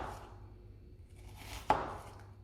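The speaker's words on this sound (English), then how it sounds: "then we're going to just take small cuts across the onion" A knife makes small cuts across an onion on a cutting board, a soft muffled tap or two over quiet background before one clearer sharp chop, close by and faint overall.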